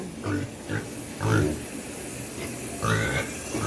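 Several short, low pig grunts come in bursts against a rough background hum, fairly close, with pauses between them.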